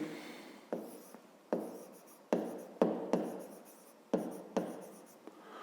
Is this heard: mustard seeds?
no